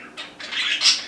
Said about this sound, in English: what you hear in the background is these very nice, cute little birds I have over here, little parakeets